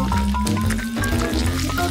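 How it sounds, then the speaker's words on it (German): Donut batter pours into the cells of a donut maker, a steady thick liquid fill with wet squishing that runs continuously and close up without pause. "Zuerst gieße ich den Teig in dieser Donut Maker."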